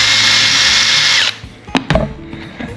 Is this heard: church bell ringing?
no